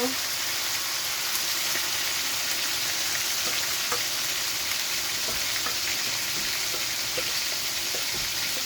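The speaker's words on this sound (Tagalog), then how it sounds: "Igisa ko ng sa kamatis yung buto-buto" Pork ribs sautéing with tomatoes in a pan for a Filipino mung bean stew, giving a steady, close sizzle and crackle that runs unbroken throughout, with faint stirring clatter underneath.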